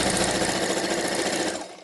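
A sewing machine whirs steadily at close range, its rapid mechanical stitching continuous and loud before slowing and fading at the end.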